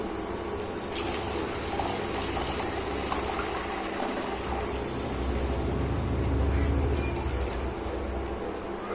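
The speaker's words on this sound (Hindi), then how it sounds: "अब मैं इसमें डालूंगी पानी।" Water being poured into a pan of chicken changezi gravy, producing a continuous splashing, bubbling rush that stays steady and moderately loud for several seconds.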